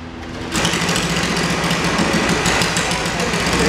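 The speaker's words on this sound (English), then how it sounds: "The Sergeant's gonna pilot her extremely high-powered right off the shelf Briggs and Stratton go-kart" A stock, off-the-shelf Briggs and Stratton go-kart engine at a Wall of Death motordrome show, starting with a small buzz and then running steady and loud, a dense high-revving rasp that keeps on with no talk.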